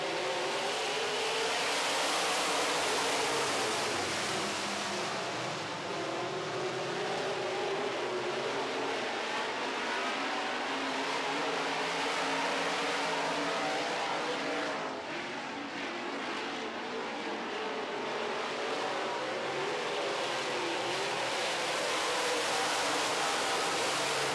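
Modified race cars roar around a short track at a green-flag start, a dense, loud engine blare sustained for over twenty seconds with slight swells as the pack passes, no talking.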